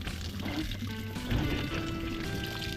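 Strong water flow gushing from a pump, a loud, steady rushing pour that continues throughout, with faint tonal background sounds mixed in.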